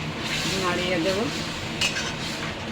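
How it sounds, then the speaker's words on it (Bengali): Milk being stirred in a pot for vermicelli payesh, a soft scraping and light clinking of a spoon against the pot, with brief stirring strokes close by and a faint background hum. "আমি দুধ দিয়ে দিয়েছি, একটু নাড়িয়ে দেব"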